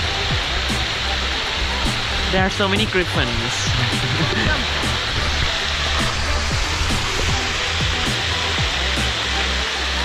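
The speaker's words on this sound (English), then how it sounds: "Can you hear the water sound? And yes, we are here at the fountain." Fountain water at Akasaka Palace splashes in a steady, loud, broadband rush that fills the whole scene, with people talking nearby over it.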